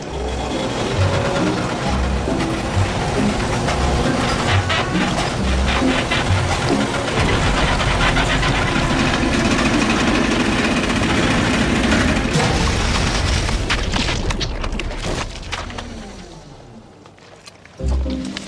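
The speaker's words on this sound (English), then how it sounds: "the voice-activated pudding dispenser, powered by a milk engine" A sitcom sound effect for a voice-activated pudding dispenser powered by a milk engine: a loud, continuous rumbling, churning machine noise that runs for about fifteen seconds before dying away.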